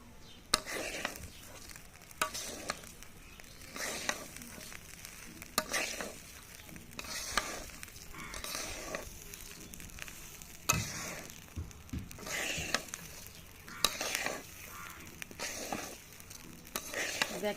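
Rice for broiler chicken biryani, with fried onion beresta added, fries in a pot while a spoon scrapes and stirs it in regular strokes over a soft continuous sizzle, with no talk.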